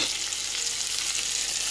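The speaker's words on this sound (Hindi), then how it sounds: "अब मैंने आंच बिल्कुल धीमी कर दी है और साथ ही इसके अंदर मैं मसाला डाल रही हूँ" Eggplant frying in a kadhai over low heat as masala spices go in, a dense, loud, continuous hiss of sizzling oil heard close, with no talking.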